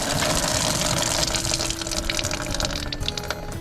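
Pressurized water gushes and sprays from the blue water line of a Coleman Lantern LT 17B travel trailer being winterized, a loud, continuous rushing flow close by that eases slightly and sputters toward the end.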